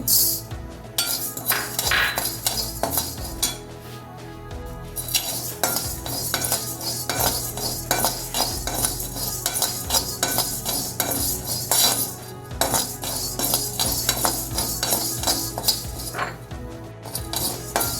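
Matta rice, mustard seeds and urad dal are dry roasted in a hot chatti, with repeated scraping and clinking of a spoon against the pan and rattling grains, close and steady throughout.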